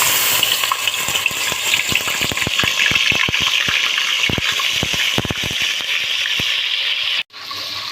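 Garlic and ginger hit hot oil in a pan while a besan salan is being made, giving a loud, steady sizzle dotted with sharp crackles and pops. The sound cuts out briefly near the end.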